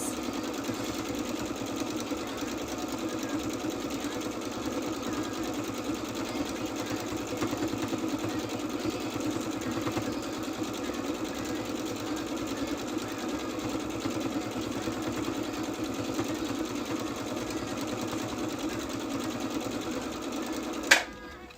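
A sewing machine runs at a steady, continuous pace for a long stretch in a quiet room, with one brief louder knock near the end.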